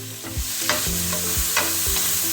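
Finely chopped onion with ginger and garlic sizzling in a pan over medium heat, with a steady hiss of frying and several scraping strokes of a spoon stirring through it, close and loud with no talking.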